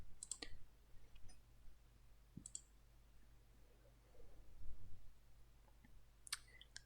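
Sparse mouse clicks at a computer, three or four faint isolated taps spaced a few seconds apart over a quiet room hum, with no talking.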